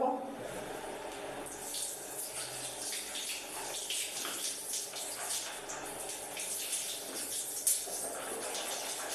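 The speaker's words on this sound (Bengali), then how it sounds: "দাঁত মাজা হয়ে গেছে এবার মুখটা ধুয়ে নেব" Water runs steadily from a tap as someone washes their face, a continuous splashing rush with small irregular splatters as hands move under the stream.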